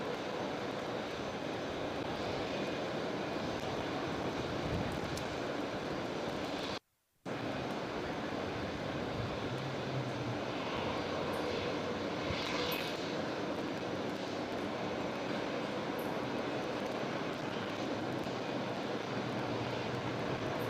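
An Embraer jet departs Brisbane Airport, with a steady broad engine roar that stays constant and moderately distant throughout, briefly cut off partway through.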